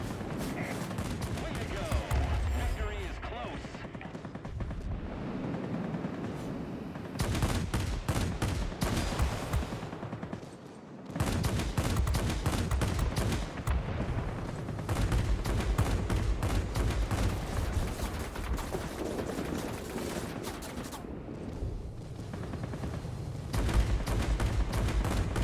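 Aircraft guns in World of Warplanes, with Japanese Navy Air Force planes, fire in loud repeated bursts over a constant engine drone, with brief lulls between volleys.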